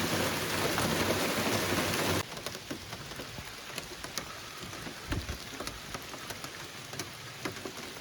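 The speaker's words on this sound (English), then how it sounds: "so much for the nice light rain" Steady rain pours down in a northern Algonquin forest in autumn, a heavy even hiss that suddenly thins to lighter pattering drips with scattered louder drops.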